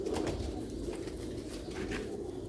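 A black-faced pigeon cooing nearby, with soft, low, rolling coos over a constant background hum.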